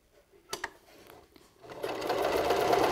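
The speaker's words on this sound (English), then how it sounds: "Now we're going to sew down the side." A sewing machine runs a straight stitch down the side of a fabric face mask; after a couple of soft clicks it starts up and settles into a steady, close whir.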